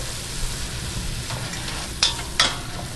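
Ground beef browning in a skillet over rising heat, a steady close sizzle and crackle with two sharp scraping stirs near the end, no talking.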